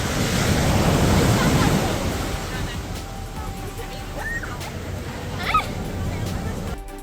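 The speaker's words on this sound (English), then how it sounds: "The waves are really big." Big ocean waves breaking on Sand Beach in Acadia, a loud rushing surf with wind noise, swelling early and then settling into a steady wash while a voice talks faintly.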